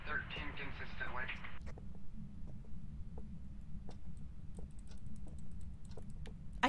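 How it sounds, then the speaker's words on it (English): Computer keyboard clicking in irregular bursts of sharp taps, fairly close, under steady background hum and occasional talk. "I keep hearing clicking. Is that Liv? That's Liv. Yes. Sorry, it's my keyboard."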